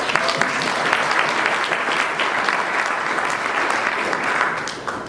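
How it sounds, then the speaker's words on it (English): Dense applause from an audience at a House of Delegates keynote, loud and steady clapping filling the whole stretch, then tapering slightly at the end. "So I think a round of applause is needed for that."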